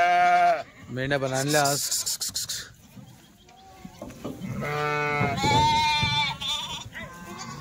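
Sheep or goats bleat loudly and repeatedly, several animals overlapping, as they are unloaded from a livestock vehicle; voices talk close by between and over the calls.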